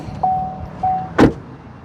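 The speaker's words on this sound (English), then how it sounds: "I'll listen up to the sound of the closing door." A door on a 2024 Chevrolet Trailblazer LT SUV shuts with a single solid thump, heard close up after two quiet chime tones, with no talking.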